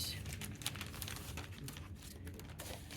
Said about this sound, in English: we are going to cut some of our muslin